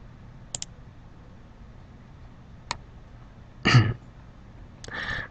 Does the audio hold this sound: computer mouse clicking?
yes